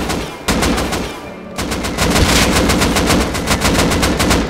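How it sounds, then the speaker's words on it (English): Rapid automatic gunfire from the video game Rust, loud and close, with dense bursts of shots that keep going across the whole stretch and only a short dip in the middle. "He shot me around the fucking corner."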